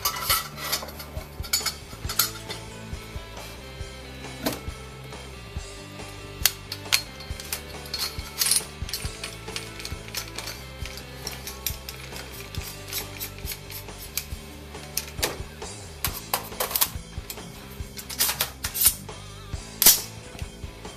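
A DRD CDR-15 5.56/.223 takedown rifle is put together quickly, producing a busy stream of metallic clicks, clacks and snaps from parts locking into place, close and continuous for about twenty seconds, with no talk.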